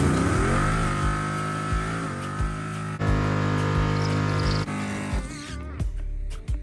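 A heavy Chevrolet Malibu drag car launches hard down the strip, its engine roaring loud and close with a steady rising harmonic drone, broken by sharp shift-like cuts, then the note thins and drops away as the car pulls off.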